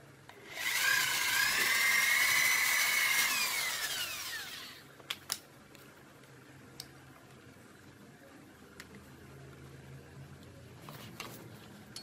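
A power drill bores through an aluminium frame while building a glass-and-aluminium cabinet, giving one loud, steady whirring burst of about four seconds. A few faint ticks and light knocks follow in the quiet afterward.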